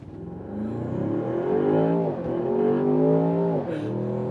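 A Land Rover Defender OCTA accelerating hard in dynamic mode on snow with the pedal floored. The loud engine roar climbs steadily in pitch, dips briefly at two gear changes, then surges again.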